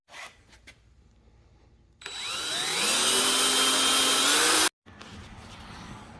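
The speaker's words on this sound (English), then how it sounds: "I'll drill these holes out and then we'll get this mounted" A power drill spins up and bores holes in a winch mounting plate on a Polaris Ranger 500 for a few seconds, its pitch rising as it bites, then cuts off; quiet handling noises before and after.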